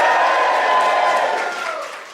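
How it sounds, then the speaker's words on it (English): Crowd cheering and shouting at a live stand-up comedy show, a brief loud burst of many voices that tails off after about two seconds. "And right up at the top there, give me a cheer."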